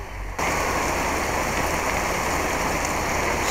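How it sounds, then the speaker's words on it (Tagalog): Heavy rain pours down after a sudden start, a dense, steady roar that stays loud and even with no voices. "hindi natuloy ang ano nila dahil lumakas ang ulan"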